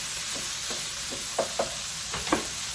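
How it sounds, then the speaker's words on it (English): A steady hiss of chicken sizzling in a hot skillet, with a few soft clicks and scrapes of stirring on top. "So I added all the chicken back into the skillet. You can hear it sizzling away."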